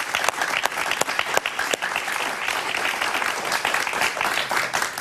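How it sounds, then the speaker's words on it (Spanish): A studio audience on a television talk show applauds steadily, a dense, fairly close wash of clapping hands that keeps going without a break and without any speech. "Un aplauso para Erwin Hoyos, por favor."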